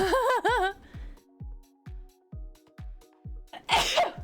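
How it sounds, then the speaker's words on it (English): A single sharp sneeze stands out near the end, coming after a stretch of a video game's musical tones and regular low thumping beats. "I just sneezed there for a second."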